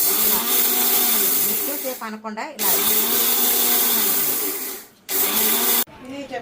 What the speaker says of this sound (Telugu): ఈ 1 కప్పు రైస్ని తీసుకొని దీన్ని ఇలాగా మిక్సీలో వేస్తాను